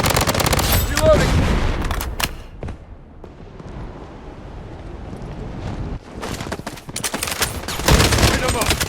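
FN F2000 rifle fire in the shooter game Blood Strike comes in rapid automatic bursts, loud and close, with a quieter gap in the middle before more firing resumes.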